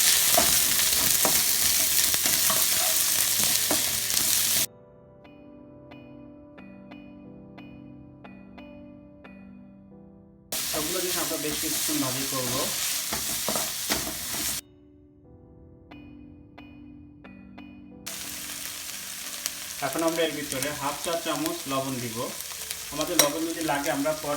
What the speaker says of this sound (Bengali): এখন আমরা এর ভিতরে শুকনা মরিচ চাপা শুটকি এবং পেঁয়াজগুলো দিয়ে আবার ভাজি করবো